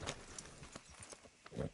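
Hooves of a horse in the Red Dead Redemption 2 video game clop in a quick, uneven run of beats, fairly faint and brief, with a soft breathy snort near the end.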